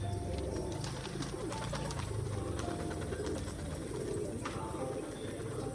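Domestic pigeons kept at a house, soft continuous cooing from several birds close by, with faint chirps mixed in and no talk.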